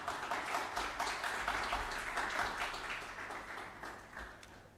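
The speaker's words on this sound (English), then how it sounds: "Let's just start practicing with a round of applause." An audience at an academic welcome event gives a round of applause, a dense wash of many hands clapping that swells briefly and then gradually fades away.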